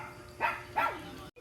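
A dog gives two short barks close together, fairly near and moderately loud over a low background hum, then a brief cut to silence.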